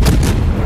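Battle cruiser naval guns firing in a naval warfare video game: a loud, heavy boom with a rumbling low-end tail, short and close, with no talk over it.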